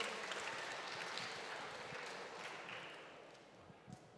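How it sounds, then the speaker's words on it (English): Audience applause greets finalist team Landfill as they walk to the side of a stage, a dense, steady wash of clapping that carries on throughout and thins slightly toward the end. "Can we give them a round of applause while they make their way side of stage?"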